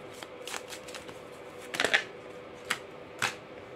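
Oracle cards being shuffled by hand, a few quick papery riffles and snaps spaced across a quiet room, close and fairly soft with faint background hum.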